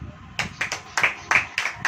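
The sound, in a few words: audience clapping hands at a church sermon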